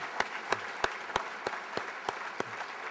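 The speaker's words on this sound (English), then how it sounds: "If we could please have another round of applause for all of the speakers." An audience claps for the speakers at the end of an event. Sharp, evenly spaced claps stand out over a softer spread of applause from the crowd.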